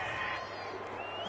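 Home crowd at an NFL game cheering after a call, a faint, distant swell of stadium noise with scattered whoops, heard briefly behind a broadcast voice.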